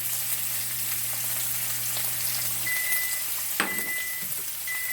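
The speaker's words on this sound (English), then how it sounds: "Let it hiss and sizzle." Steak frying in a hot pan with butter, a constant broad hiss and sizzle with a few brief sharper pops and crackles, no talking.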